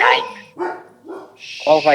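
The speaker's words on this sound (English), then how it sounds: "There's nothing to bark at." A dog barks several times close by indoors, short sharp yaps in quick succession, with a voice mixed in.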